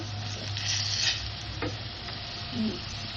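Fried potatoes with turmeric sizzle in a pan while a spatula stirs them, giving a steady near hiss broken by a few soft scrapes and taps, with no talking.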